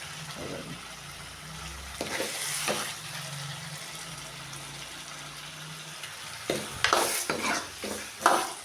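Citron (kidarangai) pickle is stirred and sautéed in oil, with a soft sizzle under repeated scraping and stirring strokes that come in bursts, loudest near the end.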